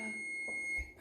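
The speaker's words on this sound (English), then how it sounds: "Timer off, burner off, and off the heat we go." Kitchen timer on the stove while making peanut butter pie filling, sounding a steady, high electronic tone held for about a second before cutting off.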